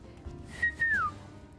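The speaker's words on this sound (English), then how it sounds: "Whistle." A character's whistle emote in Final Fantasy XIV sounds as a short, clear whistled note that holds steady, then slides downward, alone over quiet background hum.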